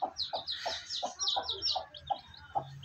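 A hen clucks in a steady series of short, close calls, with higher chirps and bird calls scattered above.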